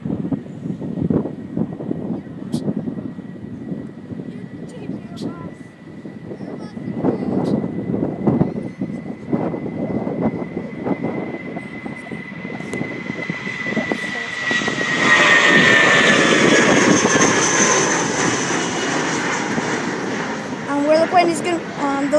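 A United Airlines Airbus A319's engines roar steadily and build to a loud, rushing surge as it takes off on a very windy day at Gerald R. Ford International Airport, Grand Rapids, with a high whine and wind noise throughout.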